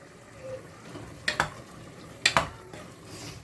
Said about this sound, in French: Et voilà, on va touiller un petit peu.